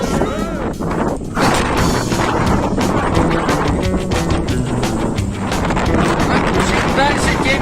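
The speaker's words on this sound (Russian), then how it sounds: "Порывы ветра все больше и сильнее." Strong wind gusts in a mountain blizzard on South Demerdzhi in Crimea, battering the microphone in loud, uneven buffets and roaring rushes. A person speaks at times beneath the wind.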